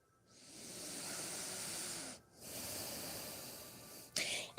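Two long, soft exhalations through the nose, each a breathy hiss lasting a couple of seconds with a brief pause between, followed by a short sharper sniff at the end, quiet and close.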